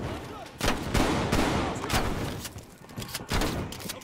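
Gunfire in the Call of Duty: Cold War campaign comes as repeated loud bursts and rolling shots over a noisy battlefield din, with some talk faintly underneath.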